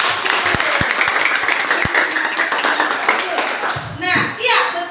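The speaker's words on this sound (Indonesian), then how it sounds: "Tepuk tangan betul." Clapping in a classroom, with a group applauding in a dense, close burst that fades out before a teacher starts talking near the end.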